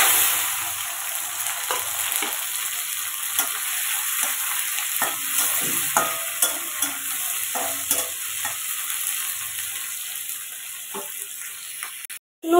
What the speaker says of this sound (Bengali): নুন হলুদ দিয়ে আমি চিংড়ি মাছটা ভেজে নিচ্ছি 5 মিনিট মতো।